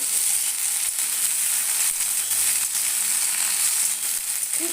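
Okra fries lightly in a small amount of mustard or white oil, giving a steady, even sizzle that holds close and constant throughout without any talking.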